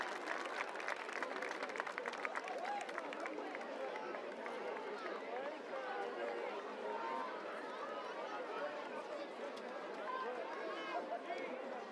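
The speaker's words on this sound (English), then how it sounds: "Round of applause for your Titans." Crowd at a high school football game between East Forsyth and West Forsyth claps and cheers for the Titans, a steady wash of applause with murmuring voices and scattered shouts throughout.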